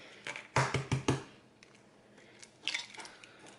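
Two eggs cracked into a bowl in a home kitchen: a quick cluster of sharp taps and shell cracks, then a softer pair of clicks a moment later, close and fairly quiet.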